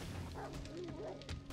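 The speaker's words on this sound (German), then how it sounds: "Wir haben Köter." Dog barking in the survival game 7 Days to Die, low bow-wow yips repeating under a constant game background, moderately close.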